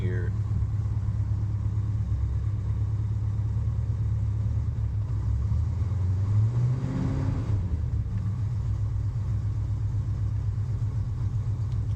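A 1970 Chevrolet Impala's 454 engine idling partly choked, a steady low rumble with a brief swell in the middle, close and continuous, with someone talking over it.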